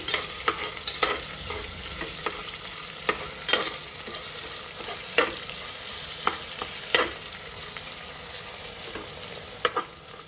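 Onions for mutton biryani frying in a pan until translucent, a continuous close sizzle broken by frequent scraping stirs of a spoon, irregular strokes across the whole stretch with no voices.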